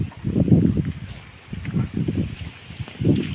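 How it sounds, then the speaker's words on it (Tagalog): Gusts of wind buffet the microphone in low rumbling bursts, coming and going in waves. "Napakahangin dito guys."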